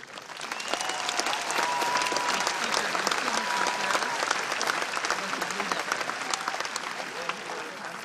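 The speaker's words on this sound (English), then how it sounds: "Your rousing ovation is overwhelming." A large graduation audience gives a commencement ovation, with dense, sustained applause at steady volume throughout and crowd voices mixed in.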